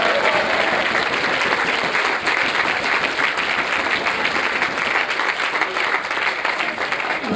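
An audience at a high school band banquet bursts into sustained applause, a loud, dense wash of clapping that runs steadily throughout with faint voices mixed in.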